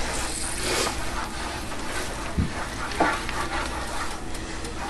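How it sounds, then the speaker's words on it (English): Minced garlic mixed into an oven-baked shrimp scampi, a steady, continuous scraping and swishing of the mixture at close range, with a couple of faint knocks along the way. "I'm just going to mix this in."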